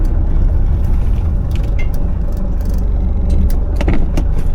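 A 1979 Mercedes-Benz W123 rolls into a parking spot, its engine a loud, close, steady low rumble, with a few light rattles and clicks scattered over it.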